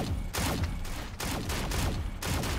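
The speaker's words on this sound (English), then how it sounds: "Oh, rocket launcher. He missed." Heavy gunfire and blasts from a rocket launcher and other weapons in a Shadowgun Legends PvP duel, with several loud booming bursts in close succession and no talk over them.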